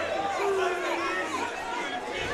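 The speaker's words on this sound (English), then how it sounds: "The crowd not happy with the wrestling from Jacob Gavan clearly there" At a kickboxing fight, a dense crowd murmurs and calls out with discontent, a continuous restless chatter filling the venue while a commentator's voice talks over it.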